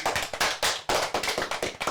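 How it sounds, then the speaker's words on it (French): Primary school children in a CM2 class clap after a recited poem, a burst of uneven claps from a small group, close and fairly loud, with no talk. "On peut applaudir aussi."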